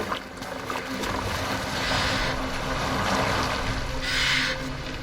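A boat moving across water in Assassin's Creed Valhalla, a steady wash of water and hull noise with a faint low hum, swelling slightly midway and near the end, no voices.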